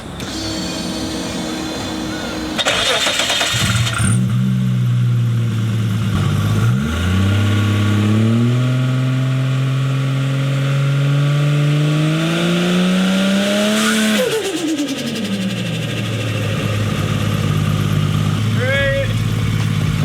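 A Holden VL car fitted with a bigger turbo revs hard, its engine note climbing and falling through several long sweeps, loud and close, with a voice speaking over it at times.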